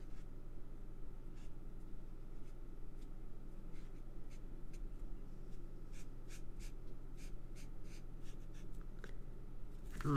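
A pen nib scratches faintly across paper in short intermittent strokes, quiet and close over a steady low hum.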